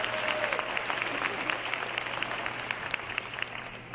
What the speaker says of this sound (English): let's give everyone a round of applause for today